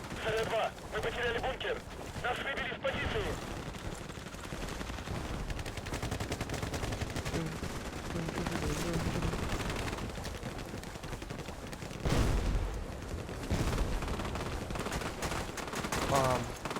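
Rapid bursts of gunfire from the video game ACW-R, with repeated shots and automatic volleys running throughout, loud and close, with game sounds layered underneath.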